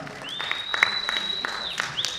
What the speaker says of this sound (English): Let's clap for Morgan Mwenda